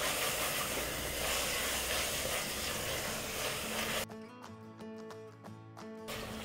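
Prawns for a prawn biryani sauté in a pan, giving a loud, steady, close sizzling hiss for about four seconds before it cuts abruptly to music.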